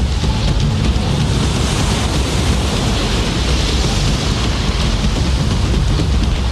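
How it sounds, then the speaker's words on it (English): Storm waves crash over and engulf Doolin Pier on the Irish coast in winter, a dense, unbroken roar of surf and spray with wind buffeting the microphone, loud and close throughout with no voices. "This footage from last winter shows the pier engulfed by waves"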